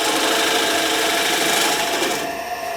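A wood lathe with a tool cutting a slight undercut dovetail into very dry pine, a steady close scraping hiss that holds evenly and eases off at the end.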